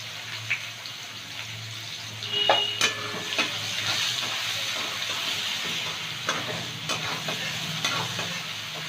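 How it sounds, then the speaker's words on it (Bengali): A large chopped onion fries with whole cardamom, cinnamon and cloves for an egg curry, making a continuous close sizzle broken by clinks and scrapes of stirring, with no talking. "পেঁয়াজটাকে একটু ভেজে নেব।"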